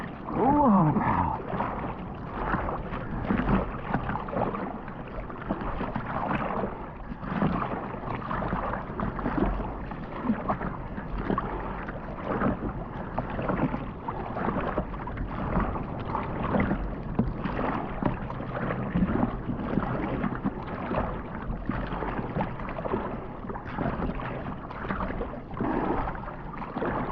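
Surfboard paddled through calm ocean water, continuous close splashing and sloshing strokes with wind buffeting the microphone, steady rhythm throughout, no voices.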